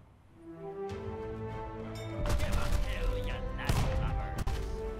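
Rapid ship cannon blasts in the indie online sea battle game Unearned Bounty, a burst of booming shots layered over sustained musical tones and effects, moderately loud, repeated in clusters.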